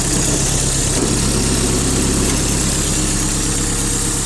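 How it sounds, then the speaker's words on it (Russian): A Mitsubishi D2050 four-cylinder tractor fitted with a front blade runs at a steady idle, its engine loud and close with an even, continuous rumble and no voices. "Четырехцилиндровый тракторочек, работает ровно, все отлично, все хорошо."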